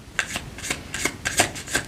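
Tarot cards shuffled by hand during a pick-a-card reading, a quick run of crisp riffling flicks and papery slaps in an even rhythm, close and clear with no voices.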